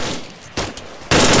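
Gunfire in Arma 3: loud, close bursts of rapid shots come in short separated volleys, with a sharp, heavy final burst.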